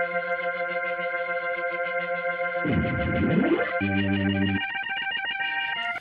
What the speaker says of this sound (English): Here's the B3 by itself.